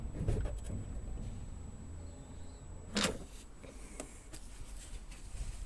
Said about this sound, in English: And now my keys wound the window up.